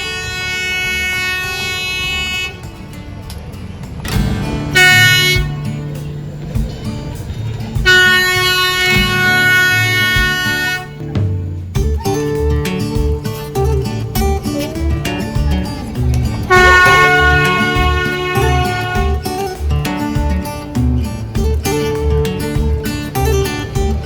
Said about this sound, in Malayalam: നമുക്കുള്ള ട്രെയിൻ ഇവിടുന്ന് വരുന്നുണ്ട് അയ്യോ രണ്ട് ട്രെയിനും കൂടെ ഒരുമിച്ചാണല്ലോ വരുന്നത്